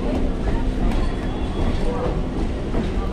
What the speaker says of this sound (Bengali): আজকে হচ্ছে আমাদের ট্রেন ছাড়লো 4 নম্বর প্ল্যাটফর্ম থেকে